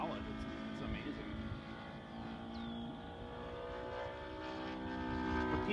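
A scale P-47 warbird model airplane with a Saito FG-60R3 engine drones steadily as it passes overhead, a continuous harmonic engine tone holding at moderate loudness, with people talking over it.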